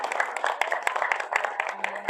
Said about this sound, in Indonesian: kita berikan tepuk tangan yang meriah untuk mbak-mbak ini semua